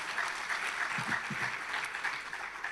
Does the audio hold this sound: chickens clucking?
no